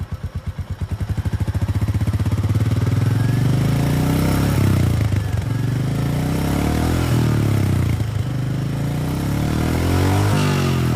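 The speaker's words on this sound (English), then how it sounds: "The forthcoming motorcycle sounds smoother and crisper" A 350cc single-cylinder BS6 motorcycle exhaust thumps at idle, then revs up into a loud, steady throb with a few rises and dips.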